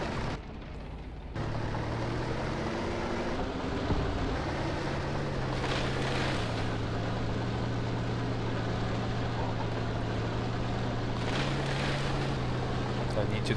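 A steady, droning vehicle engine drives on continuously in the Graviteam Tactics war game, a low constant hum that holds level with slight pitch shifts as it moves.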